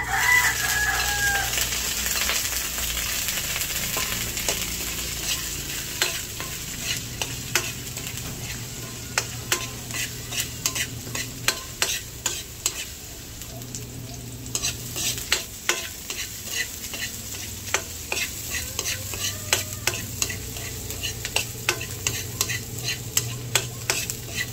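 Garlic and onion sautéing in a pan for squid adobo, with steady sizzling and repeated sharp stirring scrapes; a rooster crows faintly in the background.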